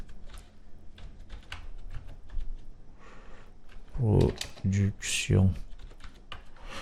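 Quick bursts of computer-keyboard typing as a file name is entered in 3D software, close and crisp, with a few louder clustered keystrokes, while someone talks quietly in the background.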